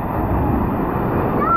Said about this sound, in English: Look at this wave